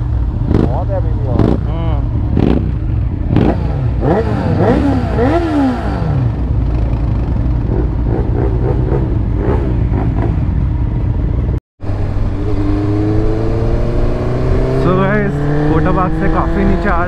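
A motorcycle engine drones steadily at close range, rising and falling in pitch with repeated revs, briefly cutting out before picking up again as it accelerates.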